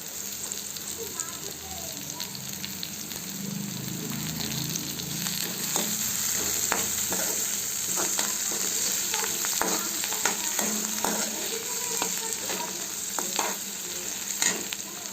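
Onions, turmeric, curry leaves and coriander fry for a tempering in a hot pan, a continuous close sizzle with frequent scraping and clinking stir strokes throughout.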